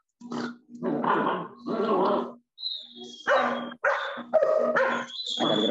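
Several dogs bark and growl in close, loud bursts, with yips and whimpers mixed in, an agitated back-and-forth cluster of barks over a few seconds.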